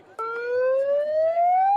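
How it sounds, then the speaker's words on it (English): A siren at a street protest, one close, loud rising electronic tone that climbs steadily in pitch, with no voices. "Follow the siren if you're lost."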